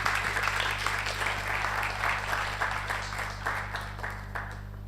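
A crowd applauds steadily as a performer walks on stage at a Carnival of the Bold event, the clapping dense and sustained over a low constant hum, tapering slightly toward the end.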